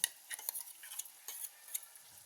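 A spoon stirs bottle gourd and raw coconut curry with green chilli and garlic in a pan, giving a few soft, close scrapes and light clinks over a faint sizzle.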